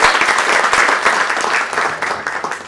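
Audience applause fills the room at a panel event, a dense, steady patter of many hands clapping at once that holds loud throughout and eases only slightly toward the end.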